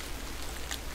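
Rain ambience from the Zen mode of the video game Bejeweled 3, a dense, even patter of raindrops on a surface with a low rumble, steady throughout and without voices.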